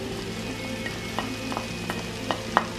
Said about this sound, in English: So I'm just going to add the bacon now.